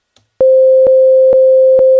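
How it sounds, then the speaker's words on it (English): A pattern of four back-to-back sine-wave synth notes at middle C plays as a loud, pure, steady tone, with a soft click at the start of each note, after a moment of silence. "It's just a sine wave."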